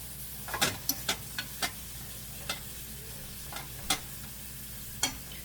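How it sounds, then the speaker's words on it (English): Sausage fries with a low steady sizzle while a fork scrapes and taps in the pan to break it up for gravy, giving about a dozen sharp clicks spaced irregularly. "I'm just kind of breaking it up with my fork, making sure it don't stick, and just making sure it gets cooked thoroughly."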